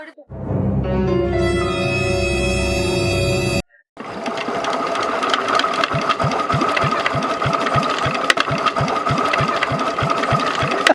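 A hand-cranked machine turned by its handle gives a steady mechanical whir. It breaks off briefly, then resumes as a fast, rhythmic rattling clatter that keeps going to the end.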